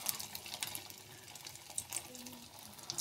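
Shrimp pakoras frying in hot oil, a low steady sizzle with scattered crackles and a few light scraping stirs, faint and without talk.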